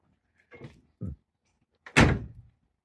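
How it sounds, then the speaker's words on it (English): A vehicle door with newly installed weather stripping shuts with one solid, close thunk, after a couple of lighter handling knocks and clicks, with no talking. "Door's closed good now."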